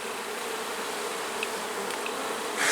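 Honey bees buzz steadily around an open hive crammed with nectar and honey, forming a continuous close drone with a few individual bees passing near and a louder swell at the very end.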